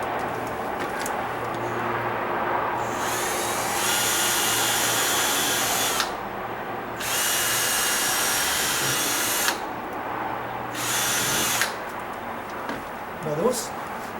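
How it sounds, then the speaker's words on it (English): Power drill boring two holes through 3/4-inch wood of an exterior door frame at the hinge, whining bursts of motor drone separated by short pauses, close and loud, with faint handling sounds between runs. "Now I'm going to get back up there and drill those 2 holes"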